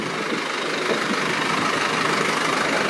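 Idling engine of a moving truck parked on a residential street in Scarborough, Toronto, a steady broadband rumble with slight knocking texture, close and continuous for a few seconds.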